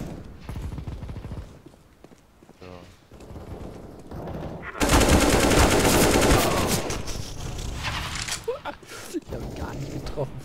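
Automatic gunfire in the game CS:GO rattles in dense bursts, loud and near, with a long sustained volley in the middle and mechanical clicks around it, and a voice is heard at times.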